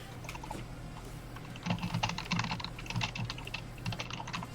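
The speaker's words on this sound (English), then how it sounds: "I love how I'm typing to answer this question in the chat when I can just use voice" Computer keyboard typing clatters in quick, irregular bursts of key presses, close and moderately loud, with no talking.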